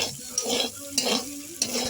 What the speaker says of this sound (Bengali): তাই আমি এখন হালকা করে ভেজে নিচ্ছি।